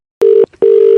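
Telephone tone after a call is hung up: two loud, steady electronic beeps, a short one and then a longer one, separated by a brief gap.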